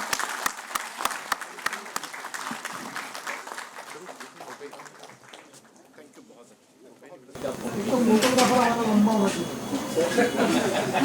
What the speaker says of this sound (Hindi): तालियों से आप विदा करें करतल ध्वनि से।